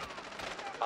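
Rapid video game gunfire from a tactical shooter, a fast stutter of shots running through the clip at moderate loudness and mixed with a voice talking.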